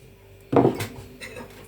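Oil and banana-bread batter ingredients being mixed in a bowl: a single close clatter of a utensil against the bowl, then softer scraping taps that fade.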